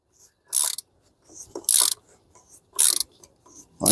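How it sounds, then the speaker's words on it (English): A 36mm shallow socket turns the oil filter housing cap on a BMW X3 E83 2.5 or 3.0 engine, making four sharp, close ratcheting clicks at spaced intervals with quiet pauses between them. "take the 36mm shallow socket here, and you're gonna twist it on the rest of the way"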